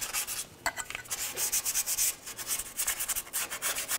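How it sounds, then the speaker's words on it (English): Sandpaper rubbing by hand over the metal exhaust manifold area of a 2004-2015 Nissan during a catalytic converter replacement, a steady run of close, rasping scrubbing strokes with brief pauses. "Now we'll use a sandpaper and try to clean up this area."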